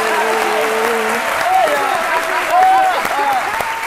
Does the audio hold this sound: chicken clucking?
no